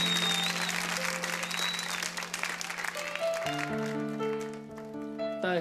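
Audience applause for a singer on a TV talent show, a broad wash of clapping mixed with sustained music tones that take over as the clapping thins toward the end.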